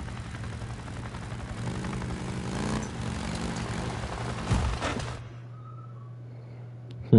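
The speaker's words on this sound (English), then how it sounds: "Why would there be a chopper in the fucking apocalypse?" A helicopter flies overhead in the post-apocalyptic video game Days Gone, a continuous rumbling engine and rotor drone that holds steady for several seconds and then cuts back to a low hum, with no talking.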